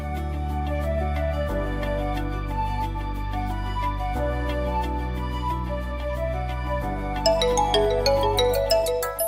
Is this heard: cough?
no